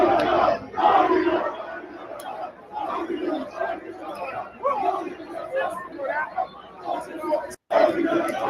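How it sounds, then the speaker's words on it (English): A large crowd of New York Knicks fans cheers and yells outside during a playoff game against the Pacers, a dense, continuous roar of voices with no break except one short dropout near the end. "So many people outside, man, going crazy."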